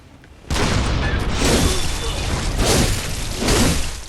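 A cannon fires in the dark gothic action game Bloodborne, a sudden loud boom followed by a sustained rumbling roar and several heavier surges, with no talking.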